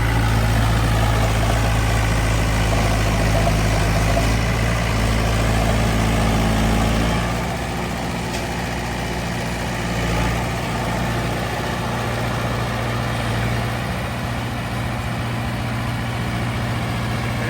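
Tractor engine idling steadily on a farm, a heavy low rumble held close and loud throughout with slight shifts in tone, no talking over it.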